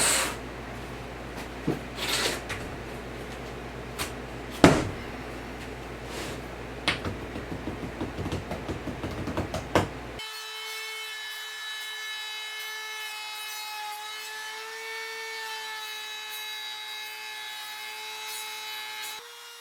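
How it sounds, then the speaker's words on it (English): An oak barnwood mirror frame being sanded, a close, gritty rubbing with scattered sharp knocks over about ten seconds, then giving way to steady sustained music. "I gave the whole thing a good sanding, but made sure I didn't overdo it to preserve a little bit of that oak barnwood charm"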